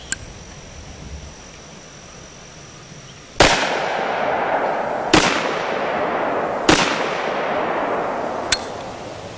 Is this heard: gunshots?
yes